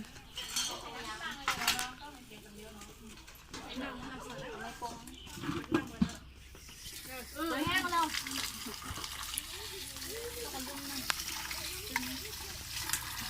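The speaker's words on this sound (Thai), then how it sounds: "ช่วยกันล้างจาน" Dishes being washed by hand, with plates and cutlery clinking against each other over running water, in steady clatter and splashes while people talk nearby.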